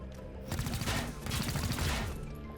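Gunfire in XCOM Chimera Squad, a dense close burst of rapid shots rattling in two clusters with a brief gap between them, loud and without voices.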